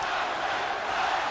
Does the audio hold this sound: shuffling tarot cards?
no